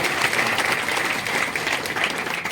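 An audience at a village bride-viewing gathering applauds, a dense, steady burst of many hands clapping together from close by, sustained for the whole moment.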